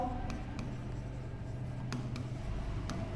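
A pen writes on paper during a maths lesson, giving faint, soft scratching strokes with a few small taps over a steady low room hum.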